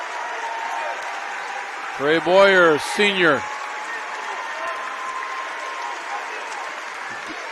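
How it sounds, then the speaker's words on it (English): Sustained crowd applause fills a college basketball arena at Pacific, steady and dense throughout as a fouled-out player gets a standing ovation, while an announcer's voice speaks briefly over it. "Another standing O from this crowd from Pacific."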